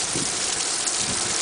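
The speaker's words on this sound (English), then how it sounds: "That's 20 minutes of torrential downpour." Torrential rain pours down in Winnipeg, a dense, loud, unbroken roar of heavy drops hammering surfaces close by, filling the whole moment without any pause.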